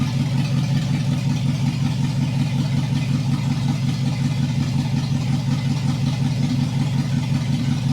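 A car engine idles through true dual exhaust with shorty headers and Flowmaster mufflers, dumping before the rear axle: a loud, steady low rumble with an even throb, close up and continuous, with no talking.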